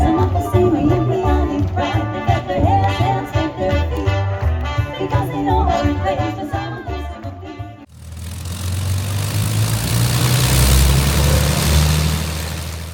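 A Spitfire's Merlin 12-cylinder, 24-litre, 1,000-horsepower engine roars loudly and steadily at a demonstration after a burst of wartime-style music cuts off partway through.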